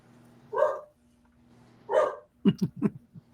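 A dog gives two separate barks, then a quick run of sharper yips, close by and alone against a quiet background.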